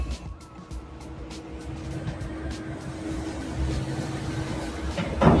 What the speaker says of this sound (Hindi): इसमें लगातार कारें उतरी जा रही हैं, चढ़ी जा रही हैं। ये है अपना रोरो वेसल, ग्रिमल्डी लाइंस